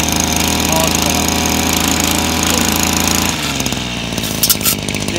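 A STIHL FS240 brush cutter engine runs loud and steady while spinning its blade for rice paddy bank mowing, the tone shifting near the end as a voice speaks briefly under it.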